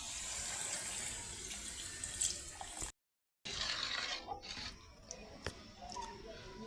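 Water is poured into a pot of biryani, a steady splashing flow that breaks off briefly, then resumes with lighter trickles and a few sharp drips and clinks.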